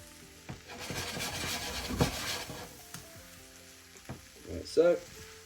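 Coarse chubritsa herbs are stirred into kavarma sizzling in a traditional clay pot, a close frying crackle under repeated scraping and knocking of the spoon against the pot.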